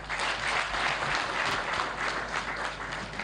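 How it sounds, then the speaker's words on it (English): Steady, dense applause from the audience at a press conference following an address by the Zambian president, a continuous wash of many hands clapping at moderate volume. "Another round of applause"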